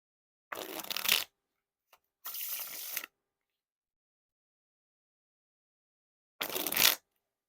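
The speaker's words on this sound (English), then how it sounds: "Now for the riffle shuffle or bridge shuffle." Three separate riffle shuffles of a brand-new, slippery Broken Crowns playing card deck, each a quick crisp burst of cards fluttering together, with silence between them.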